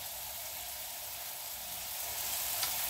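Hamburger patties frying in a pan, a steady, even hiss of sizzling fat that holds unbroken throughout and swells slightly toward the end, close and moderately quiet.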